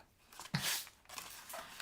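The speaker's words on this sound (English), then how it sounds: "the next section we're just going to cut on that score line right there, and then angle cut this tab" A brief, close cut through a cardboard box along its score line: a single crisp snip-and-tear with a short rustle afterward, faint and quiet.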